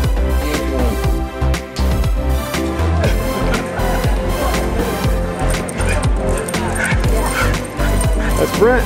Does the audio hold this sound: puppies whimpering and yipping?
yes